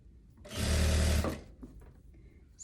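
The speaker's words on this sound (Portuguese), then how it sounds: "Estou fazendo a bainha da manga agora." A sewing machine hemming the sleeve of a long kaftan, running in one loud, steady burst of under a second before stopping, with faint handling noise afterward.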